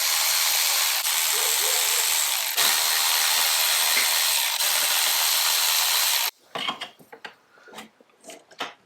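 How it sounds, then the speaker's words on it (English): A ratchet wrench removes bolts from the intake manifold of a 1997 engine. A long stretch of steady, loud broadband noise gives way to short, irregular bursts of close ratcheting clicks. "should just be able to remove the 4 bolts, attaching it to the intake, and pull it off"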